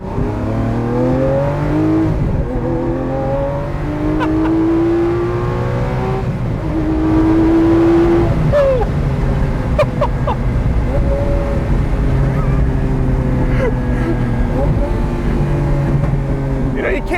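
A Lamborghini Centenario supercar accelerates hard, its engine note climbing through repeated rising sweeps between gear changes, loud and continuous from inside the cabin over about seventeen seconds, with faint speech mixed in.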